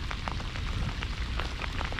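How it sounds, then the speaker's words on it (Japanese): Heavy rain falls steadily during a sea bass fishing trip with a big-bait tackle setup, making a dense, close hiss with scattered drop patters and no voices. "こんだけの雨だったらしょうがないよねってねなるので"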